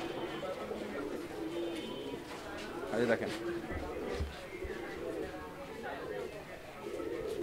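A tame pigeon coos softly in low, rolling phrases, partly buried under someone talking nearby and a steady background hiss.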